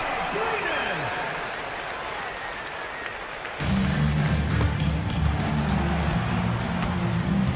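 A home crowd cheers and applauds after a win in a Euroleague basketball video game. A dense roar swells and gets louder partway through, with a commentator talking over it.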